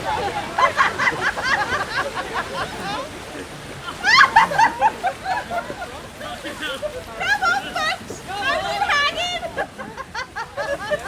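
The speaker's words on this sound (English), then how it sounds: "You can just hear the excitement in the crowd." A crowd by a river shouts and cheers as wheelbarrows are pushed splashing through the water, with excited voices rising in bursts over sloshing and splashing.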